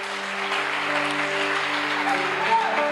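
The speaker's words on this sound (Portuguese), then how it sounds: "Você pode dar um aplauso para ele?" A church congregation applauds, a dense wash of clapping that holds steady for a few seconds over a sustained organ or keyboard chord underneath.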